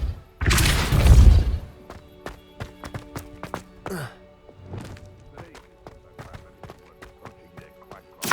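A Depulso repelling spell from the game Hogwarts Legacy lands as a loud, dense blast with a crash, then gives way to scattered knocks, clatters and a few short thuds that trail off.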